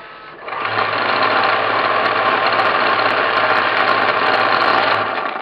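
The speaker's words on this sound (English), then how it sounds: "And it's loud, so I'm just going to stop talking." Sewing machine running fast to wind a bobbin, a loud continuous mechanical whir that starts abruptly, holds steady for about five seconds and then winds down.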